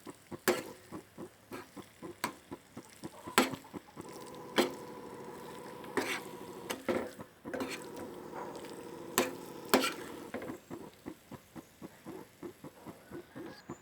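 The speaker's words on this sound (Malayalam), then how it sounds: "ഇതിലോട്ട് നമ്മുടെ എഗ്ഗ് ഇട്ട് കൊടുക്കാം. നമുക്കത് നന്നായിട്ട് മിക്സ് ചെയ്തെടുക്കാം." Eggs being stirred into a masala in a pan, heard as soft wet squishing and scraping strokes with sharp clicks of a spoon against the pan, in an irregular rhythm, close and fairly quiet.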